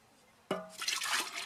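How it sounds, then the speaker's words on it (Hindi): Cow urine is poured into water for bijamrit, a farm seed-treatment mix. A sudden splash is followed by a steady, rushing pour of liquid into water, fairly close and moderately loud. "अब सबसे पहले आप में गोमूत्र डालना"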